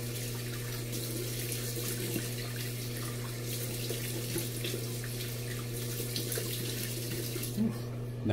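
Cold water runs from a bathroom sink tap in a steady, even splash with a constant low hum, quiet and uninterrupted before a shave.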